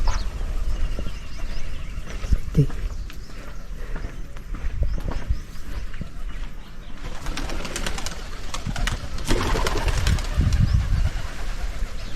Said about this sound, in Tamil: புறாக்கள் பார்த்து